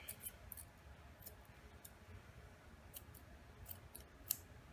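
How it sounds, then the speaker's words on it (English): Scissors snip hair from a dog's feet during a show trim, beveling the fur; quick, faint clicking cuts come in scattered bursts, close up and quiet, with no talking. "Make sure it's sitting on top of that foot and scissor it off"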